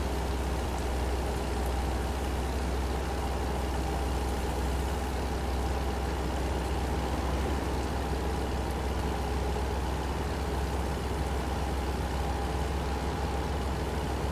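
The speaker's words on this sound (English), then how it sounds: "Oh, rain is stopping now." Steady rain drums in American Truck Simulator on the Kansas map, a dense, even hiss layered over the low rumble of an idling truck engine, continuous and unbroken throughout.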